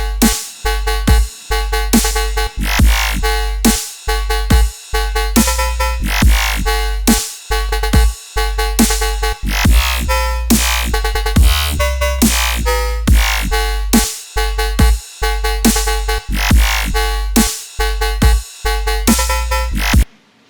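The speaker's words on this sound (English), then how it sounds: "There's two sounds in here, a growl and a more metallic bass sound" Metallic FM synth bass with a growling layer plays alone in a dense, loud electronic pattern, sustained tones cut by frequent brief gaps into a rhythmic, chopped phrase.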